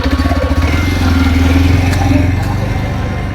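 A motorcycle rides past with a steady mid-pitched engine drone and pulsing exhaust. The engine note holds close and loud for most of the stretch, then eases slightly near the end.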